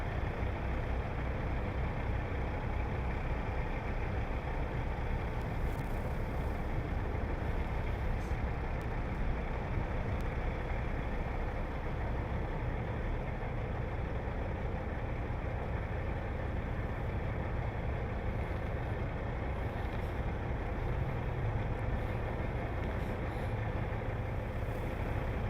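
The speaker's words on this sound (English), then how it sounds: "I want to back until the tractor is completely out of the area." A semi truck tractor backs up slowly in a straight line, its diesel engine idling and rumbling steadily and loudly throughout, with faint brake hisses and no talking.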